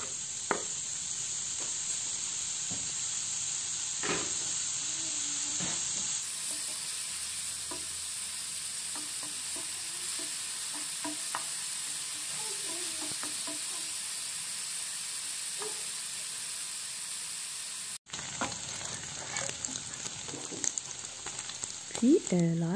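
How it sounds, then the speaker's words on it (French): Fat sizzles steadily in a frying pan over medium heat, a dense continuous hiss with occasional light stirring scrapes, holding level until a brief cut, then resuming with more clatter. "Dans la même poêle et sur feu assez moyen, j'ajoute le gras"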